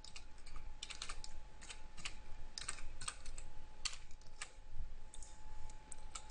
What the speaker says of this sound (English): Type in your username, type in your password,